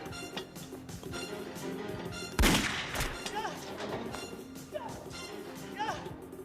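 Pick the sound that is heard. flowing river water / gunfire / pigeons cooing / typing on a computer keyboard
gunfire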